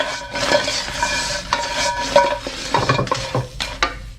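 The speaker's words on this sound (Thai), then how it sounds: "นี่นะใช้เป็นวิธีกระดกกระทะอย่างนี้นะครับ" Food stir-fried in a wok, seasoned with black pepper, sizzles steadily while the pan is tossed, with scraping stirs and clinks of metal on metal at close range and no talk.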